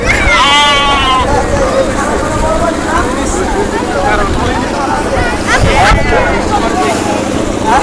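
Goats bleat among the bustle of a char island market on the Padma river where chickens and vegetables are also sold, short wavering calls under continuous crowd chatter and talking.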